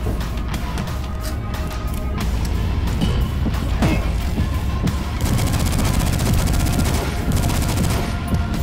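Turret gunfire in the DUSK first-person shooter game: dense, loud bursts of rapid shots, becoming a sustained, fast automatic stream in the second half, amid clattering game action.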